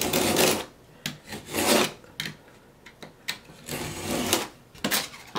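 A blade rasps and scrapes along the edge of peel-and-stick wood veneer, trimming off the excess in several uneven strokes of varying length, close and fairly loud, with no talking.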